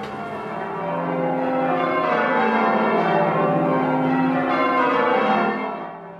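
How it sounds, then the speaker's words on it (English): British church bells ring out in a dense, sustained peal, overlapping tones sounding loud and steady throughout with no voices. "There's something about the sound of bells that's lodged deep within the British soul."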